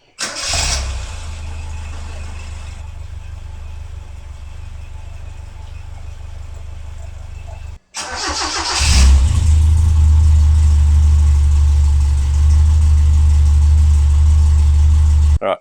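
A Toyota TA22 Celica engine cranks and catches, settles into a steady idle, cuts out briefly, then restarts and idles louder and deeper.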